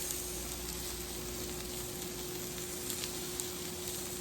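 Garlic, shrimp and vegetables sizzle steadily on a grill as shrimp kabobs cook, a continuous close, even crackling hiss with no talking.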